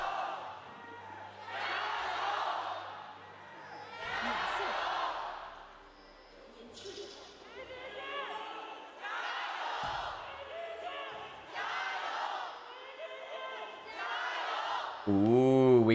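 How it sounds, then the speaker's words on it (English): At a League of Legends LPL esports match, an arena crowd yells and chants in rhythmic bursts about every two seconds, with rival fan chants answering each other. The roars rise and fall, and there is a louder swell at the end. "the crowds are going to be given a moment to yell."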